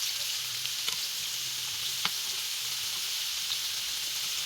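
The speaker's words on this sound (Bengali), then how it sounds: "এখন আলুগুলো ভালো করে ভাজতে হবে।" Potatoes fry in hot oil for an egg curry, giving a steady, even sizzle with a few faint clicks of stirring, close up and with no talking.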